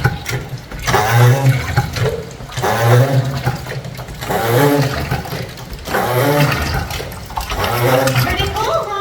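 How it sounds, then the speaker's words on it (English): Water runs steadily through the recirculating channel of a historic water-powered mill in Oregon, with a continuous wash and rushing sound. A voice talks over it. "there's water in here running"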